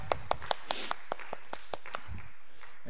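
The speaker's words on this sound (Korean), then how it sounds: "우리 환영하는 박수로 환영하겠습니다." Sparse, evenly spaced claps in a church youth service, roughly a dozen sharp hand claps at a steady rhythm, fairly faint and close, welcoming a new congregation member.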